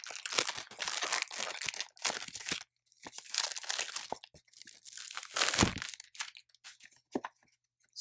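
Crinkly crunching and tearing of Gucci Alchemist Garden perfume packaging as a box is opened, close and loud in bursts separated by short pauses, with sharp cracks and rustles and no talking.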